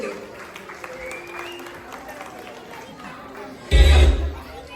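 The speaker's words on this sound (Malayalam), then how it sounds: "നമ്മുടെ ഈ മലയാളി മങ്ക കണ്ടസ്റ്റന്റ്സിന് എല്ലാവരും ഒരു നിറഞ്ഞ നല്ലൊരു കൈയടി കൊടുത്തു." At an Onam 2025 celebration, an audience bursts into loud applause for the Malayali Manka competition contestants. It is a short, close clatter of clapping that follows a stretch of talk over a microphone.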